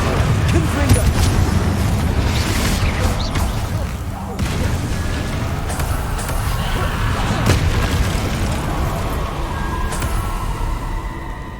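Confringo fire spells from Hogwarts Legacy burst in a rapid, loud barrage of booming explosions, layered with dense combat noise that runs continuously without a break.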